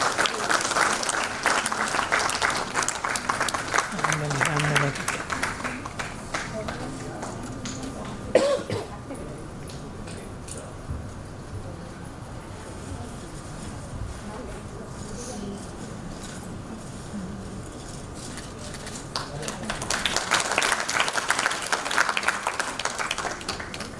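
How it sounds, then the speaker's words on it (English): Applause from the audience at a Sri Lankan women's award ceremony, loud clapping at the start that fades into a quieter stretch with coughs and murmuring, then swells again toward the end. "give her a round of applause"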